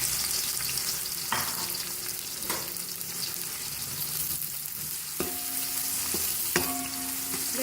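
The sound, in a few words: chopped onions frying in oil for mutton pulao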